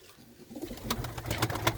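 Desi pigeons coo softly in a loft, a few low rounded calls building over the last second against faint background noise.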